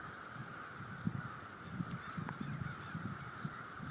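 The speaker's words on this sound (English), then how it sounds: "That is a lot of birds." A large flock of geese honks continuously outdoors, overlapping calls rising and falling at moderate distance with a steady background hum, no talking.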